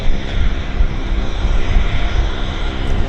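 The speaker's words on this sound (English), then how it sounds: "Big BizJet. Gulfstream. Taxing it nicely." A Gulfstream business jet taxis at Vancouver airport, its engines giving a steady, loud, continuous roar and whine with a deep low rumble, close by throughout with no talk.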